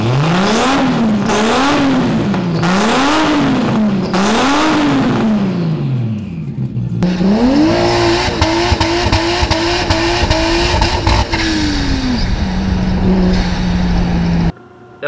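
A high-revving Toyota 1JZ engine in a Mark III Supra climbs and drops in repeated surges, then holds a loud sustained rev with crackling exhaust before cutting off.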